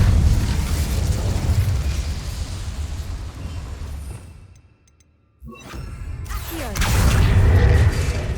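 The Incendio fire spell is cast in Hogwarts Legacy on PS5, producing a loud, roaring burst that fades to near silence midway before another strong whooshing surge.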